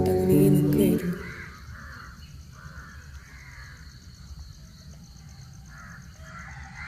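Crows caw again and again on a cold, breezy morning outdoors, the calls steady at moderate distance after a loud, brief burst of noise at the start.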